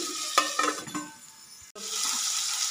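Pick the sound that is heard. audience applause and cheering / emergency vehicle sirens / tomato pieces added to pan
tomato pieces added to pan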